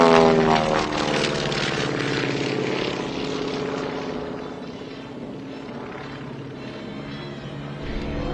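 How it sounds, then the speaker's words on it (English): Aircraft powered by two Pratt & Whitney R985 radial piston engines flying at an air show at Tinker Air Force Base, a steady loud propeller drone with throbbing harmonics that gradually fades slightly as it passes, no voices. "it's powered by two Pratt & Whitney R985 radial piston engines that generate 450 pounds of thrust each"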